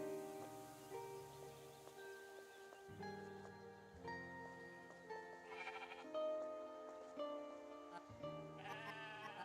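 Sheep bleat repeatedly in the video game Discounty, several wavering calls layered over a steady musical game soundtrack, with no talking.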